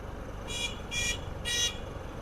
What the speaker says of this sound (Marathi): बघ इथं विनाकारण मारायला लागला हॉर्न